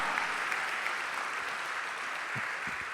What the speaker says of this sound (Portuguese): Mais uma salva de palmas ao Senhor.